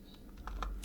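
Keys clack on a computer keyboard as a Google search is entered, a few quick soft taps close by, the last one louder, with no talking.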